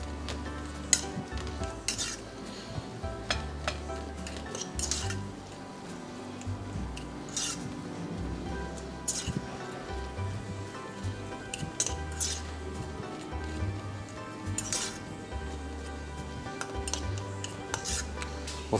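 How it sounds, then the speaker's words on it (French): A spoon stirs and scrapes through Italian beef tartare dressed with olive oil in a restaurant kitchen, with irregular clinks and soft wet scraping against a bowl over a low background hum. "Et le tout bien mélangé."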